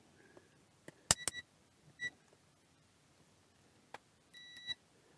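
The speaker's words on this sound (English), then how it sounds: "I go on beep mode" Short electronic beeps from a multimeter in continuity mode as probes touch connections on an industrial HMI during repair, several brief tones spaced irregularly with clicks and quiet gaps between.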